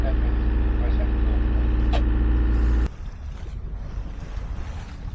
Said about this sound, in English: the wind's building, close hauled